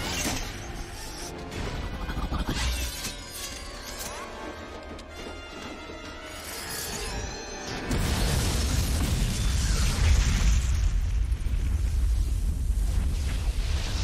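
A bomb explodes in The Matrix Reloaded, a sustained roaring blast with crashing and creaking debris that grows louder and denser partway through, nearly drowning out faint voices.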